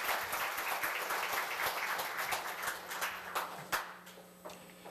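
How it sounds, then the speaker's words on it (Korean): Audience applause at a labor culture award ceremony at Korea University, a dense, even wash of many hands clapping that thins toward the end, with a few louder individual claps. "다시 한번 감사의 박수 부탁드리겠습니다."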